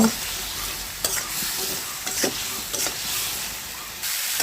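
Ground spices, turmeric, coriander, cumin and chilli with salt, sizzle steadily in hot oil in a pan, with a spatula scraping and stirring in repeated strokes, close and fairly loud without speech.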